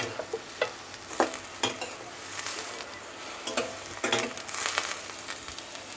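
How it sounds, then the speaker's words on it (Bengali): Sliced onion and chopped garlic fry in oil in a cooking pan, a steady sizzle broken by repeated scraping stirs of a spoon against the pan, close and moderately loud, with no voices. "আমি এখন পেঁয়াজটা ভেজে নিচ্ছি, আর এর মধ্যে আমি কুচানো রসুনটাও দিয়ে দিচ্ছি"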